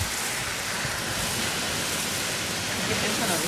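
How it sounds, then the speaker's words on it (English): A strong windstorm roars steadily, a dense, unbroken broadband rush like heavy surf with no distinct gusts standing out, loud and close throughout. "this is the wind that knocked the trees down."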